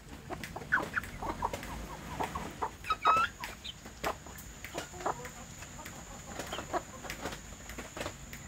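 Young free-range village chickens cluck and peep in irregular bursts, some close and some farther off, over a quiet outdoor background.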